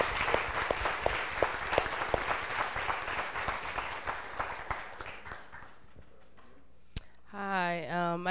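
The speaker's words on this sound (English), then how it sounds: "You deserve a round of applause." A room of people applauds after a talk on equity, the dense clapping thinning out over several seconds before stopping; a voice then speaks briefly at the end.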